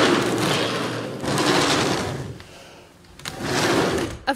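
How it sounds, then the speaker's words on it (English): Model vacuum train passenger carriage pushed along its track by air pressure, giving loud rushing, whooshing surges with a rattle, a short lull, then another rush and a final knock. "It's possible to move the passenger carriage down the track simply by applying pressure behind or vacuum in front of the thrust carriage"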